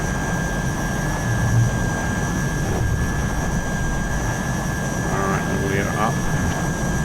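Steady roar of a Hawker Hunter jet engine in Microsoft Flight Simulator, a constant broadband drone with a thin high whine running the whole time, with brief faint voice-like tones near the end.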